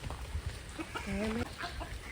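A brief, faint chicken cluck rises out of soft background noise, a single short call heard at a distance.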